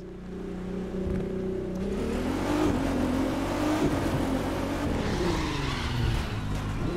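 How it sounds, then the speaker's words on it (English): Classic American muscle car engines rumble and rev continuously at moderate distance, pitch rising and falling in a deep, throaty drone with no talk. "That's the sound of classic American muscle car engines"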